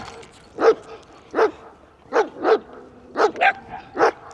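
A small dog barks at a group of big dogs, sharp close barks coming singly and in quick pairs at a steady, agitated pace, with no talking over them.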